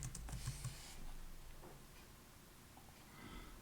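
Typing a folder name on a computer keyboard: a short run of quiet, close key taps in a quick burst at the start, then soft scattered clicks under faint room noise.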